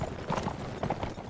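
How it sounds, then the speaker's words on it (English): A horse in the video game Mount & Blade Warband clip-clops at a brisk gallop, a quick run of rhythmic hoofbeats heard fairly close with no talking. "Oh crap, that's right, I still have this stupid horse."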